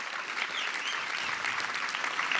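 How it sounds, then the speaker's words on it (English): A crowd at an engineering academy commencement ceremony applauds graduating interns with a continuous, even wash of clapping from many hands, heard fairly close and alone. "Let's give them a richly deserved round of applause."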